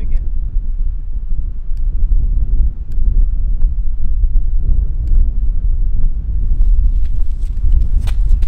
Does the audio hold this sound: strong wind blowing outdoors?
yes